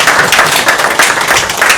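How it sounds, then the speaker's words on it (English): An audience at a group event claps loudly in a dense, continuous burst of applause, close and filling the short moment without speech. "So, let us give a big round of applause again."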